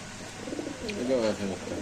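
A male racer pigeon coos beside its mate at a pigeon market, giving a soft, close, throaty warble in the second half with faint background murmur.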